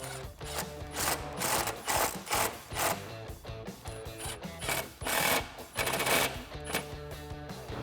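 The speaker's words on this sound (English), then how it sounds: "what I'm going to do is tighten these up. I'm going to use an 8mm socket for both clamps" Ratchet with an 8mm socket tightening the clamps on a cold air intake for a 5.7L HEMI Charger, a close series of rapid clicking bursts in steady repeated strokes with brief pauses between them.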